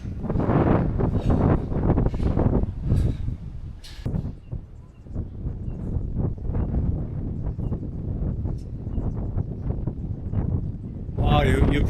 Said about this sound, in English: you probably can hear the wind really has picked up